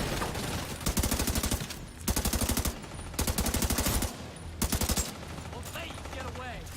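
Automatic gunfire in Division 2, firing in three sustained rapid bursts of closely spaced shots, each lasting about a second, with the gaps between them filled by combat noise and a faint voice.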